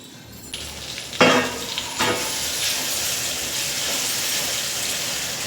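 Tomatoes cook and sizzle in a pan for gongura pulao, with a steady frying hiss and a couple of sharp stirring scrapes near the start, close and continuous.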